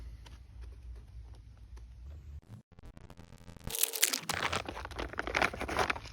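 Close crinkling and rustling of plastic packaging from an American MRE military ration, quiet at first, then a burst of louder tearing and crumpling toward the end.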